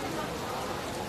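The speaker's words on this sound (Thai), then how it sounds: "โอ้ฝนตก เริ่มเย็นแล้ว" Rain falls as a steady, close, even hiss with no breaks, dense and unchanging from start to finish.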